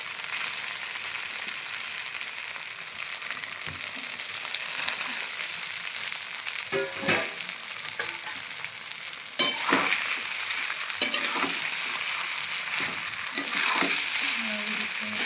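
Idli pieces tossed and stirred in hot oil in a pan, a steady close sizzle of frying with intermittent scraping stir strokes across the pan.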